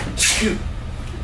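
A single person sneezes once, a short sharp burst near the microphone in a quiet room, followed by low background murmur.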